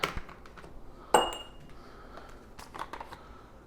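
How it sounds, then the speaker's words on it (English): Ice cube dropped into a glass holding a non-alcoholic drink sweetened with maple syrup and lemon: a bright clink stands out in a quiet room amid a few lighter glassy taps and ticks. "And an ice cube."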